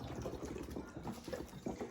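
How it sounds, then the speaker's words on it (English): Ice cold water poured into a glass mason jar, a soft continuous trickle and splash at close range, steady for a couple of seconds with no talking. "I get ice cold water and I put it inside"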